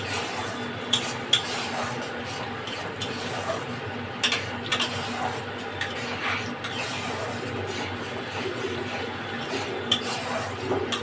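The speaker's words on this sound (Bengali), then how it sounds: "পেঁয়াজ বাটাটা নেড়ে" Onion paste fries in a pan over a tempering of dried red chillies and whole garam masala, with a soft sizzle under repeated scraping and clinking of a spatula, close and fairly quiet.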